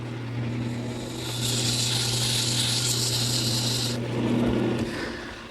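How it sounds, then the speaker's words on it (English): Sandpaper rubs against a spinning wood turning on a lathe, shaping a post for a quilt rack. A steady raspy hiss swells and fades for several seconds over the lathe motor's low hum. "Now all I have to do is sand the turning."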